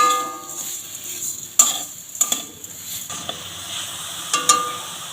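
Grated coconut and sugar being stirred in a pan for a sweet palm-fruit paratha filling, soft scraping and light sizzling with a few sharper clinks of the spoon against the pan, close and fairly quiet.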